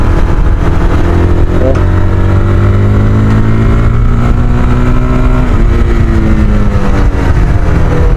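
A Bajaj Pulsar 220 motorcycle idles nearby with its exhaust silencer droning steadily, the engine note rising and falling slightly in pitch throughout, loud and continuous with a faint voice in the background.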